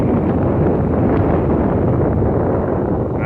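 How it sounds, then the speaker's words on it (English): Strong gusting wind roars continuously and loudly across the microphone outdoors at sunset, a dense buffeting rush that swells slightly without letup. "Look at this wind"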